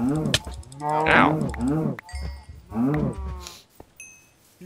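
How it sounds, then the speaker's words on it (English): Cows in a Minecraft-style video game, several drawn-out moos rising and falling one after another, loud and close, with a few short clicks and game noises between them. "Cows! I love cows."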